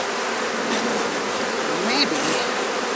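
Many honeybees fill an open hive box with a dense, steady buzz that stays close and loud throughout, and a brief faint whine rises near the end.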